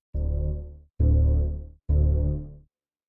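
Three low synthesized string notes with attack time set to zero, each starting instantly at full volume, holding briefly and fading, separated by short silences.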